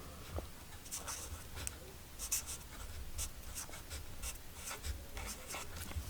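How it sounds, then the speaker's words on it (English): A small Sharpie marker writes word cards on white paper, producing quiet, close scratchy strokes in short irregular bursts with brief pauses between letters. "and I'm going to write the word cards on it."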